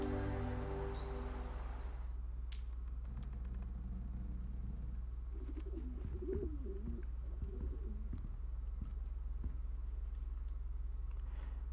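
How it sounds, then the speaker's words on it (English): Spring birds coo in the Hogwarts Legacy game world, soft pigeon-like calls repeating over a steady low rumble, following a brief fading tone at the start, with no talking. "The birds are back."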